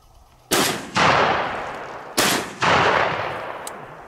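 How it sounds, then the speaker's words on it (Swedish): Four loud shotgun blasts go off during a hunt over a pea field, in two closely spaced pairs, each crack followed by a rolling echo that fades outdoors. "Andra smällan fick jag in i alla fall."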